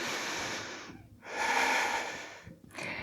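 Deep, audible breathing during yoga practice: a long airy inhale, a brief pause, then a fuller exhale, followed by another breath starting, close and alone.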